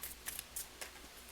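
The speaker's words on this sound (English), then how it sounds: "shuffling it this way is very easy as well" A brand new tarot card deck is shuffled by hand, a few quick faint riffling flicks in short bursts, close and quiet with no talking.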